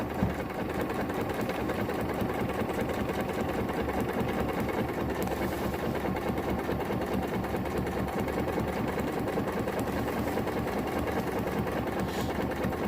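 Domestic sewing machine stitching along the edge of a Costco down throw being made into a hammock underquilt, a steady close, loud motor whir with rapid needle chatter running continuously throughout, no talk.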